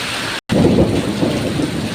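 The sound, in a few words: thunder during heavy rain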